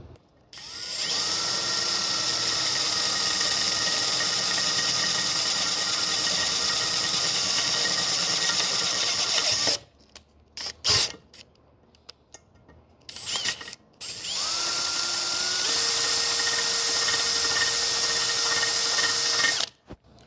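A Makita DHP490Z brushless cordless drill bores a 10 mm hole with a steady, loud motor whine that runs for about ten seconds. After a brief break with a few clunks, it drills on for several more seconds.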